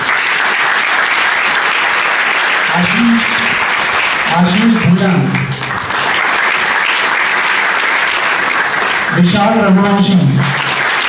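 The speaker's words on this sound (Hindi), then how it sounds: "आपकी तालियां धीरे धीरे कमजोर होती जा रही है ना।" Steady crowd clapping fills a sports day induction gathering while an announcer reads out names, the voice cutting in several times over the unbroken applause.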